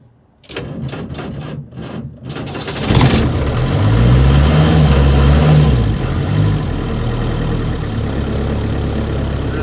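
A Land Rover Series 2A with a 2.25-litre diesel engine cranking through a few rhythmic starter turns on a cold winter day, catching and then settling into a loud, close, rumbling idle.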